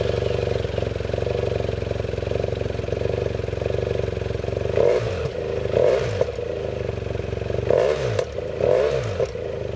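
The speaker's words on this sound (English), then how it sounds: "Starting the BMW F800 GT can be done using the key you see here." A BMW F800 GT motorcycle's 798cc inline twin idles steadily close by, with several short throttle blips rising and falling over the continuous engine drone.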